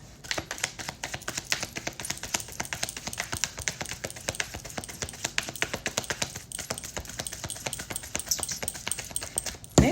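Playing cards are shuffled in a long, rapid, crisp flutter of close ticking riffles that runs continuously for several seconds, with no voices over it.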